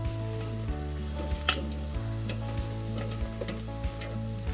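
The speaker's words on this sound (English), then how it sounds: "We'll give that a bit of a stir." Seasoned onions sizzle steadily in a pan while being stirred, with a continuous close frying hiss broken by regular scraping stirs and a few light clinks.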